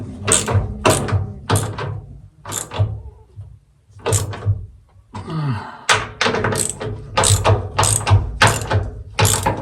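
A ratchet wrench tightens bolts in a garage during work on a C-10 pickup, giving repeated bursts of rapid, crisp clicking with short pauses between strokes, close and clear with no talking.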